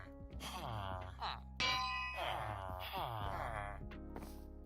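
A village bell in the game Lyfcraft rings in repeated ringing strikes, each decaying into a long shimmering tail, moderately loud and layered over one another.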